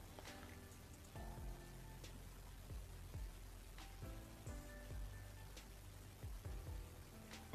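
A rain spell in the video game Knight Pen and Paper 3: steady rain hiss with scattered drop patters over soft tonal music, continuous and moderately loud with no voices.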